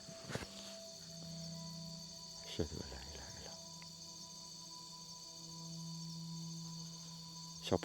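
Crickets chirp in a steady, thin drone at night in a rural village, with a few rustles and brief knocks close by and faint voices now and then.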